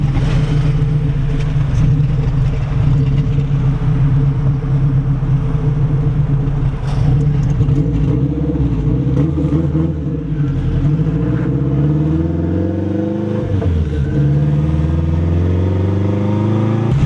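A turbocharged street car accelerating hard right after a cold start, its engine roaring loud and close with rising harmonic sweeps as it revs through the gears, no voices over it.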